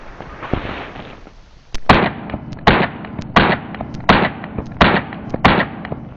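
A handgun fired in a rapid shooting drill: a single shot, a short pause, then a steady string of about seven loud, sharp reports at an even pace, close by.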